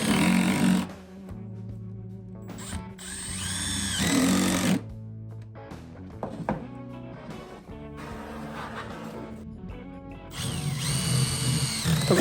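A power drill drives fasteners into a metal coping cap atop a wall, in several bursts of high whirring separated by short pauses, close up and with no voices.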